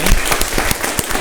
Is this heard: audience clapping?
yes